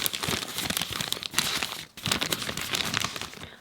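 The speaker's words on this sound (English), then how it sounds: "It's a very soft, beautiful crinkling sound." A sheet of rice paper is crinkled right in front of a microphone, giving soft, dense crackling bursts that go on almost without a break, with one short pause midway and no talking.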